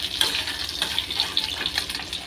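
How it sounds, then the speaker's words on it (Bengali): Egg fritters frying in oil on a low flame, producing a steady soft sizzle and crackle throughout, close by. "এখানে আমি বাকিগুলোও ভেজে নিচ্ছি আর এটা পুরো লো হালকা ফ্লেমে ভাজবে"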